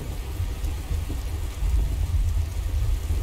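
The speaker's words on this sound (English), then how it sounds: "there's a lot less people out now that it's raining" Steady rain falling in the video game Skyrim, a soft continuous hiss and patter with low rumbling beneath, fairly faint and unbroken.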